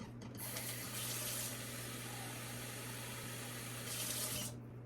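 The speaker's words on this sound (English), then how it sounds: "I'm going to turn this on the regular tap first." Cold water runs from a regular kitchen tap, a steady close hiss of flowing water with a faint low hum beneath, starting and stopping cleanly across a few seconds.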